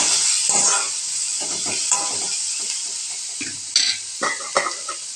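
Chopped small onions dropped into hot tempering oil with asafoetida, crackling and sizzling steadily up close, with a few louder stirring clatters of a spoon against the pan.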